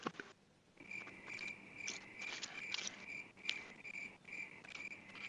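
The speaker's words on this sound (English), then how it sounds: "I hear crickets every night." Crickets chirp at night in a rapid, pulsing, high-pitched trill, fairly close and repeating in uneven bursts over a quiet background, with no voices.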